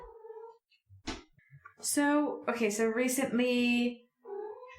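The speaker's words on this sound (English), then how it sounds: "Oh no, we're getting attacked by the kitty" A cat meowing and yowling close by in a podcast setting, a run of drawn-out, wavering cries with a short chirp beforehand and a softer meow at the end.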